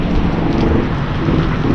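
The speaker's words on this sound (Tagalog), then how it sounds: "Grabe lakas ng ulan." Heavy rain pours down steadily in a dense, continuous roar with no break throughout.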